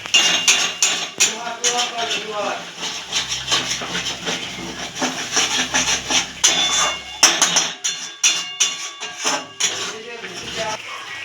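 Spice paste with ground nut paste stirred in a pan for a Bengali doi katla fish curry: busy metal spoon scrapes and clanks against the pan over a low hiss, with someone talking throughout.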